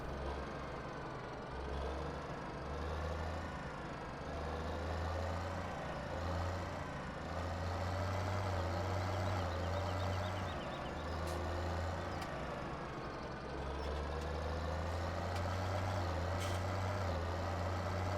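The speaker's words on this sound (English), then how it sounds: "Come on, tractor. We're breaking fresh ground here." A tractor in Farming Simulator 17 grinds steadily while breaking fresh ground, its engine drone loud and continuous, with a low rumble that surges and drops in pulses as it strains under load.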